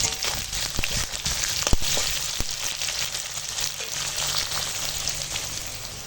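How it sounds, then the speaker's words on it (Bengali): Chopped onion and slit green chilies sizzle and crackle steadily in hot oil in a pan over a wood fire, with a few sharper pops and stirring clicks in the first seconds. "এখন ওই তেলেই এই কেটে রাখা পেঁয়াজ আর চিড়ে রাখা কাঁচা লঙ্কা দিয়ে দিলাম পেঁয়াজটা একটু ভেজে নেবো"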